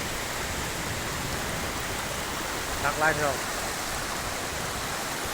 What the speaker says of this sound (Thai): มีในโซนน้ำไหลลงไปเนาะ